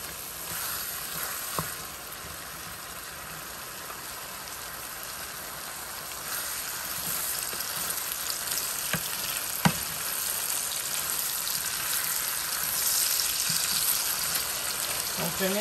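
Small nsensa fish fry and sizzle in a pan in a Congolese home kitchen while being stirred. The steady hiss runs throughout, with a few faint scrapes and taps of the stirring utensil.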